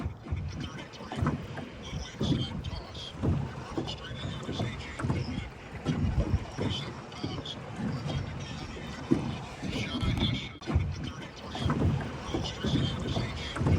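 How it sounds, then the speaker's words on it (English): Wind gusts over open water near a shoreline with a boat, a steady loud rushing buffet across the microphone throughout, with water lapping beneath. "The wind is blowing from the north"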